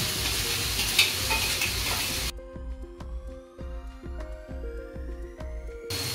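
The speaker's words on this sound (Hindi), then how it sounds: "ये भी ब्राउन होने तक तलने हैं" Two onions fry in hot oil in a home kitchen, a dense steady sizzle for the first two seconds before giving way to a quieter stretch carrying faint tonal, music-like notes and soft knocks.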